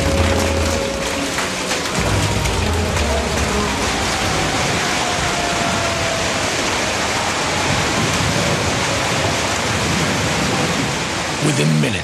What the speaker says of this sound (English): Within minutes, the winds reach 70 miles per hour and baseball-sized hail starts to fall.